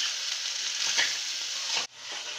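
Red chili powder, cinnamon powder and salt sizzle in a hot pan with a soft stirring scrape, a steady close hiss that dips briefly before carrying on.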